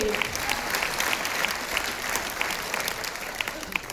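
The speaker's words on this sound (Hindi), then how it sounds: "एक बार जोरदार तालियां सिस्टम के लिए।" An auditorium audience at a recognition event claps for a few seconds in a dense, steady burst of applause, fairly loud and even throughout.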